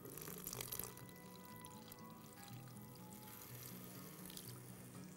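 Water, about a quarter cup, is poured into a juicer blender jar holding ground spice masala, a soft continuous splashing trickle, quiet and close, with a slightly louder gush at the start.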